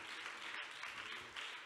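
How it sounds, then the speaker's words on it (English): A church congregation applauding during a praise service, a dense, moderately distant wash of many hands clapping that continues steadily with a brief dropout partway through. "Let's clap for Jesus."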